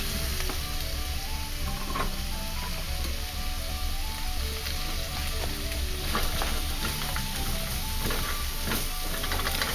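Onion, shallots, garlic and swede frying and glazing together in a pan for an Irish stew, a steady close sizzle with light stirring throughout and no voices.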